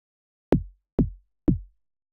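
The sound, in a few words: synthesized kick drum in Logic without effects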